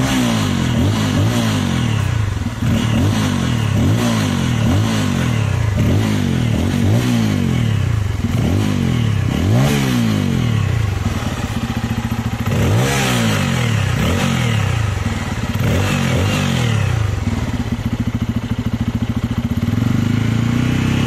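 A 2023 Bajaj Pulsar F250 motorcycle engine and exhaust revved repeatedly while stationary, with loud, close throttle blips that rise and fall in pitch over a deep steady idle rumble.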